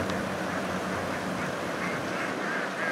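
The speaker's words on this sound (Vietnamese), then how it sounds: "Lần đầu tiên trong đời mình thấy cái đàn vịt mà chạy đồng mà lớn nhiều như thế này luôn mọi người." A large flock of egg-laying ducks running loose across an open field keeps up a dense, continuous chorus of quacking, steady and moderately loud throughout with no voices over it.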